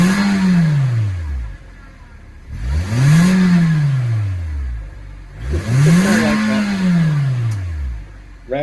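A stock car engine with no rev limiter revs loud and close, climbing and falling in three long repeated pulls, each rising to a strained peak before dropping back to idle.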